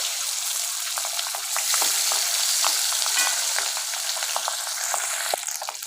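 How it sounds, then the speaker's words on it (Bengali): Pabda fish frying in hot oil in a pan, a steady dense sizzle with frequent sharp pops and crackles throughout, close and fairly loud, with no voices. "তো মাছগুলো আমাদের সব ভাজা হয়ে গেছে"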